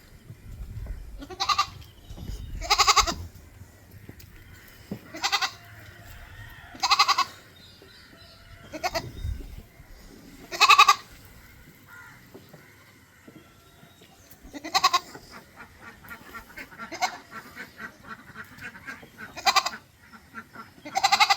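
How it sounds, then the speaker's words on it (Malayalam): Malabari goat kid bleating repeatedly in short, loud calls spaced a second or two apart, with a few quieter bleats between and low farmyard background noise; no one speaks. "നല്ലൊരു മലബാരി ആടുംകുട്ടി"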